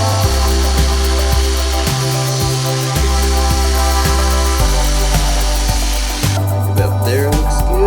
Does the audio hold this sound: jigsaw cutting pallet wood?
yes